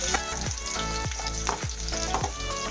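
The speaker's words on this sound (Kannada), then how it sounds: "ಬೆಳ್ಳುಳ್ಳಿ ಇದು ಚೆನ್ನಾಗಿ ಫ್ರೈ ಆಗಬೇಕು" Garlic frying in oil after dried chillies, a continuous close sizzle with rhythmic stirring strokes about every half second, no voices.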